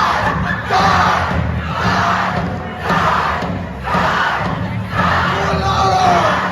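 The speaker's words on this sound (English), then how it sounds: "I hear you screaming, die, die, die, die," A large crowd of high schoolers screams and chants in rhythmic surging waves, loud and close, with pulsing swells roughly every second and a half.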